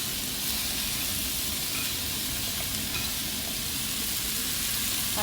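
Onion sautés in hot oil with ginger and garlic for cauliflower masala, giving a dense, continuous close sizzle with faint stirring ticks throughout and no talking.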